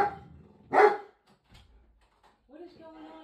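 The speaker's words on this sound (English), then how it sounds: "They're barking at Stinky." Dogs bark indoors in a few sharp, loud yips and barks, one strong bark followed by scattered quieter sounds and a whimpering tone, with people talking nearby.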